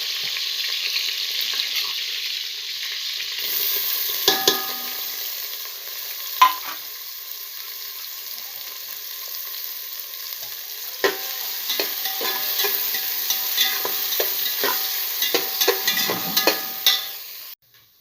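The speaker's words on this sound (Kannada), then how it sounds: "ಸೊಪ್ಪು ಬೇಯಿಸಿರೋ ಅಂಥ ಪಾತ್ರೆಗೆ ನಾನು ಎಣ್ಣೆ ಹಾಕಿ ಇಟ್ಬಿಟ್ಟು ಮತ್ತು ಹಸಿಮೆಣಸಿನ್ಕಾಯಿ ಮತ್ತು ಈರುಳ್ಳಿ ಹಾಕ್ಬಿಟ್ಟು ಚೆನ್ನಾಗಿ ಫ್ರೈ ಆದಮೇಲೆ" Green chillies and onion fry in hot oil in a pot that held cooked greens, a steady loud sizzle with scattered clinks and scraping stirs, no talking.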